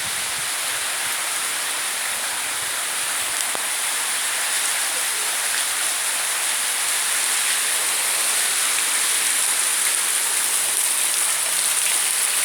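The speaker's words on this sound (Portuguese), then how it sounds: "Chuva pra cavalo beber em pé." Heavy rain pours down steadily in Carolina, Maranhão, as a dense, continuous hiss without pause. It is loud and close, with no voices.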